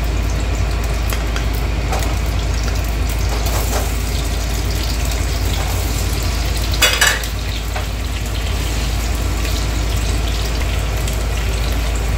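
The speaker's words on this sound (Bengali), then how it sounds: "আলুটা আগে ভেজে নেব।" Potatoes frying in a pan produce a constant loud sizzle, with steady stirring scrapes and a brief louder burst partway through.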